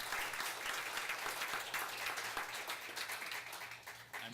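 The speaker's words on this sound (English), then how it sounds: "Give her a round of applause." A round of applause at a city council regular meeting in Turlock, steady clapping from a modest room audience that holds for several seconds before thinning toward the end.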